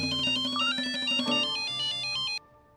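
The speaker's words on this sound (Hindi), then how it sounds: "लैब से फोन आया है।" A phone ringtone plays a loud, bright melodic tune for about two and a half seconds, then cuts off abruptly, with no voices over it.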